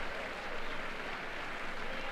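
Crowd cheering in the World of Tanks game before a race, a steady, dense wash of applause-like noise at moderate level with no clear talk.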